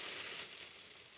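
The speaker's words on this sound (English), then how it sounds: "I can hear the rain on the roof." Rain patters on a truck roof while someone camps in a PA state forest, an even, soft hiss with no individual drops standing out.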